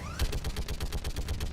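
Rapid automatic turret fire in a video game, a steady string of sharp shots roughly every tenth of a second, loud and continuous throughout.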